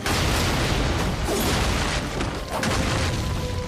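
Gunshots and booming blasts ring out in an action scene from the RWBY animated series, Volume 1, forming a dense, loud, continuous barrage with no clear gaps.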